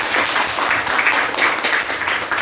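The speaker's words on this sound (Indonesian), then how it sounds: "Coba beri tepuk tangan untuk" A crowd claps together in warm, steady applause that holds at an even level from start to finish.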